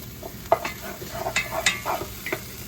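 Scallion pieces being stirred and broken up with a utensil in an oiled frying pan, giving soft sizzling under a string of irregular scraping and tapping strokes, close and steady, with no talking.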